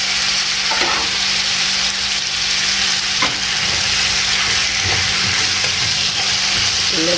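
Grated tomatoes and garlic fry in a pan with chicken for a chicken stir fry, giving a steady, close sizzle with a few soft stirring scrapes throughout and no talking.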